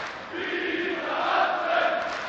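German crowd at a 2017 European Darts Matchplay tournament, a sustained roar of cheering and shouting from a large audience, loud and continuous with no single voice standing out.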